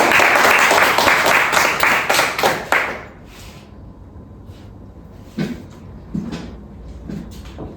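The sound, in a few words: classroom applause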